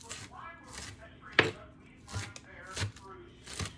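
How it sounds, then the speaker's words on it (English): A knife chops fresh spinach and other vegetables on a board, a handful of irregular crisp thuds spaced about a second apart while a person talks. "That's why you don't usually see me chopping up vegetables."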